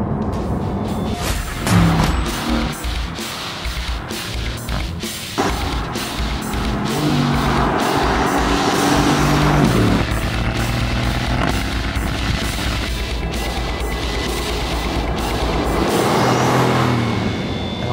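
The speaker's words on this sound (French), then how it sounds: "la GT est assez silencieuse même si on entend bien le bruit des pneus à 130 à l'heure" A Mercedes-AMG GT S with a 4-litre V8 drives at motorway speed, a steady loud road and tyre roar with engine hum that swells and settles over the stretch, no talk heard.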